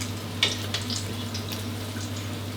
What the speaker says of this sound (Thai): ตอนนี้ผมก็ทอดปลามาได้ประมาณ8-10นาทีแล้วครับ